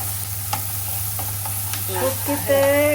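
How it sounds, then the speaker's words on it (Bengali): Green chilies and onion frying in oil for a Bangladeshi dried rupchanda fish dish, a soft steady sizzle with occasional stirring scrapes that grows louder and more crackling toward the end. "কাঁচামরিচটা একটু ভাজা হয়ে আসুক"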